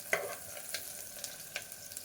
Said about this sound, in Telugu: ఆనియన్స్ పచ్చివాసన పోయే వరకు కాసేపు ఫ్రై చేద్దాము.